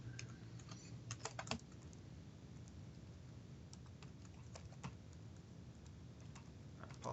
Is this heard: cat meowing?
no